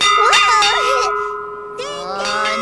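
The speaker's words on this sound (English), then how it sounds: "I'm ringing this bell." A clear, sustained bell tone rings steadily throughout while voices talk over it, their speech rising and falling around the ringing.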